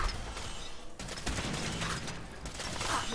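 Video game gunfire, a dense run of loud shots and mechanical clatter layered over continuous combat noise, close and sustained throughout.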